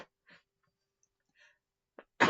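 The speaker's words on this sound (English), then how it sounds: "Hold on, I gotta sneeze." A short, sharp sneeze bursts out at the end after a few quiet breaths and small rustles.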